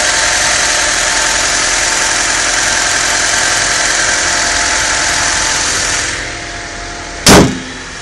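The 1.6-liter four-cylinder engine of a 1999 Honda Civic idles loud and close with a steady hum. It eases slightly near the end before a brief sharp click.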